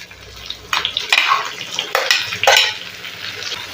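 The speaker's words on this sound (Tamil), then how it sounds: "நல்லா வதக்கி விட்டுக்கோங்க இந்த எண்ணெயிலேயே இப்போ இதுக்கு தேவையான உப்பு போட்டுடலாம்" Brinjal pieces sautéing in oil in a pan for a Tamil brinjal fry, soft sizzling with several scraping stirs of a spoon against the pan, close and fairly loud, no voices.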